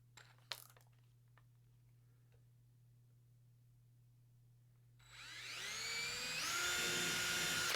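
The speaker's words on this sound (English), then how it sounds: "We're going to go back to my smaller drill bit." A small drill whirs up after a few quiet seconds with faint ticks, its high-pitched spinning whine rising and holding steady close by.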